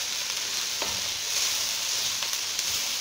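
Onions frying in a pan for sautéed potatoes give a steady, close sizzle with a few faint crackles and clicks throughout, no voices over it.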